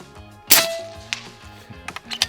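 Single sharp crack of an unregulated air rifle shot near the start, followed by a fainter ringing tail and a few light clicks and knocks, over a low electronic background hum.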